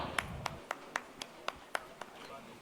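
Faint applause for a speaker at an astrology conference in India comes as about nine sharp, evenly spaced claps at a slow, steady pace.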